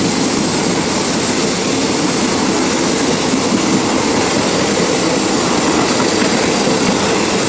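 Express train No. 171 roars through Nong Pla Lai station in Thailand, a loud, steady, close rumble with broadband rush and rattle sustained throughout, no voices.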